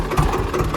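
A farm tractor's engine runs at night in a field, a steady, rumbling idle held close at hand with no break.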